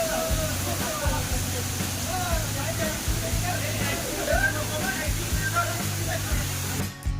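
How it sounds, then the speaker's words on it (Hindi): Mountain waterfall swollen with rainwater, a steady dense roar and spray rushing close by, with faint voices and low rumbling beneath throughout. "और ये वाटरफॉल सारे पहाड़ों का पानी इकट्ठा होके निकल रहा है"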